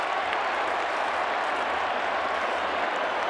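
Huge stadium crowd roaring at the 1989 VFL Grand Final between Hawthorn and Geelong after a big mark, a dense, continuous cheer filling the whole moment with no break.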